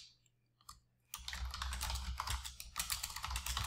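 Rapid typing on a computer keyboard while entering an open house sign-in rule, a dense run of close, continuous key clicks after a brief quiet start.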